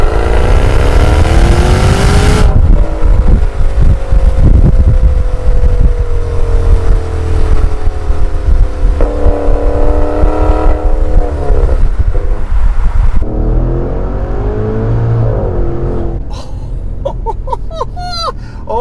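A Maserati Levante Trofeo's 3.8-liter twin-turbo V8 revs hard, a loud, close roar that rises and falls through long sweeping pulls, with wind rush and a brief lighter passage near the end.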